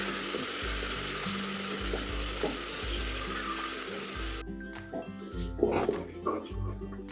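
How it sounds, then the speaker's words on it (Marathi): Onion-garlic paste roasting in a pan: a continuous moderate sizzle with occasional stirring scrapes, close and loud throughout. "कांदा लसूण पेस्ट, पेस्टला सुद्धा छान आपल्याला भाजून घ्यायचं आहे."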